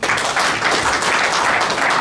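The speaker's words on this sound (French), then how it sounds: "applaudir justement son président" An audience at a conference of cultural managers and artists applauds the association's president, with brisk, dense clapping that stays loud for the whole short stretch.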